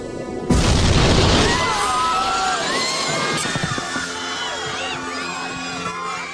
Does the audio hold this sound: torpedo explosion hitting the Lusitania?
yes